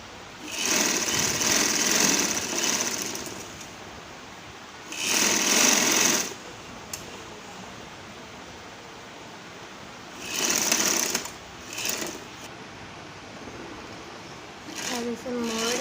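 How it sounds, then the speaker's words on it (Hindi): An electric sewing machine stitching a kurti runs in several short whirring bursts of a second or two each, separated by pauses, with a person talking in the gaps. "हम इसकी सिलाई लगा रहे हैं।"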